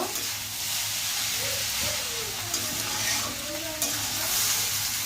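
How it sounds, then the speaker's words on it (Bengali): Noodles and vegetables stirred in a frying pan over low heat, a soft continuous sizzle with scraping and tossing sounds from the utensil, close and moderately quiet, with a couple of sharper clicks against the pan. "সবকিছু আমি ভালো করে মিশিয়ে নিব।"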